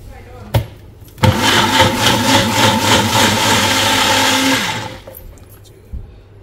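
A Magic Bullet blender grinds cardamom pods with a splash of cold water, a loud, steady whir running for about four seconds, preceded by a brief knock and followed by a softer tap.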